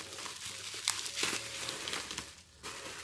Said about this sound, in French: je vais déchirer le joli autocollant